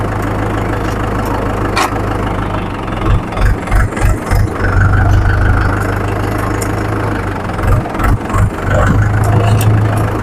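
An old Swaraj 843 XM tractor with a blue bonnet runs its diesel engine close by, a loud steady idle with low rhythmic chugging and a few uneven revving pulses.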